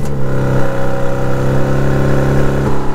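A BMW M2 Competition with an aftermarket exhaust idles from a cold start, giving a loud, steady low rumble with a slight pulsing burble and a small blip near the end, close by and without talk.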